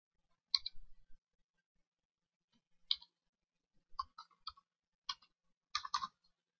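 Keystrokes on a computer keyboard as a username and password are entered at a login screen, coming in short separated bursts of crisp clicks with quiet gaps between them, close and alone with no talk.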